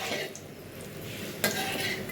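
Breadcrumb-coated egg devil balls frying in hot oil, giving a soft close sizzle with a light clink of a utensil against the pan partway through, no talk.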